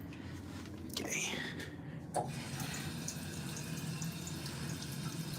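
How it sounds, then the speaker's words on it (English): Water runs steadily to rinse a photographic print in a darkroom, a faint continuous hiss and trickle under soft, quiet voices. "Let's just rinse it off a little bit."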